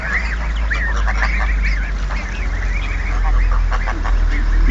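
An aggressive swan honking repeatedly at close range, its harsh nasal calls coming in quick bursts over a low background rumble.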